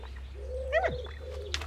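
A pet bird gives a soft, close coo with a short rising call, alone over a low steady background hum.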